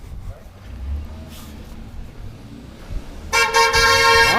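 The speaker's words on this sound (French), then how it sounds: "Ah ben ça klaxonne dans tous les bouts." A car horn blares in a street in Vallorbe as football fans celebrate Switzerland's 2-3 win over Serbia. Low traffic rumble comes first, then a loud, sustained honk near the end.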